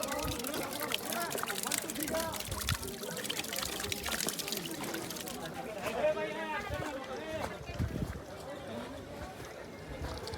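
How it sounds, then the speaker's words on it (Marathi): Water from a small waterfall at Raigad Fort pours and trickles in a steady broadband wash, with a person talking over it throughout. "छोटासा धबधबा."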